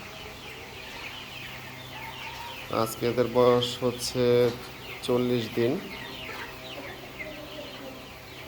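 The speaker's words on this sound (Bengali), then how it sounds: "এখানে দুই ব্যাচের মুরগি আছে, কিছু আছে 40 দিন, কিছু আছে 35 দিন।" Young chickens about forty days old, from a flock kept for breeding, cluck and call in a short burst of several close squawks in the middle, with a person talking before and after.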